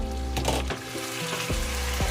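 Pork adobo fries in its own rendered fat, a loud, close, continuous sizzle with bursts of crackling and the occasional stir.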